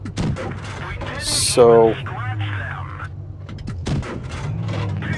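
A Tier 4 tank gun fires in a video game, aboard a 38(t) n.A. light tank loaded with APCR rounds. One short, booming shot stands out midway, with someone talking over the game sounds.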